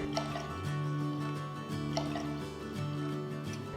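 Water poured into a pressure cooker holding dals with turmeric and salt, a soft steady trickle and splash, quiet and close, with no talk.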